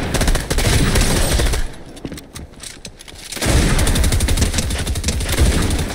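Rapid bursts of automatic gunfire in a shooter video game, loud and close, with a short lull in the middle before the shooting resumes.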